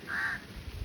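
A crow caws once, a harsh drawn-out call at moderate distance outdoors, followed by faint low rumbling background noise.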